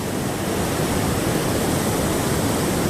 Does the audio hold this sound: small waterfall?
yes